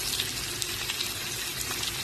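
Tomato and onion frying in a pan for a bitter gourd gojju, a steady soft sizzle with a watery hiss and faint crackles throughout, no voice over it.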